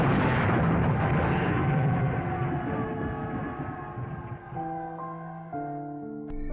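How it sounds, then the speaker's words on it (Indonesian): A bomb explodes in a film scene as a loud broad blast that slowly decays into a rumbling tail, with sustained tonal music rising beneath it. "Kemudian bomnya pun meledak."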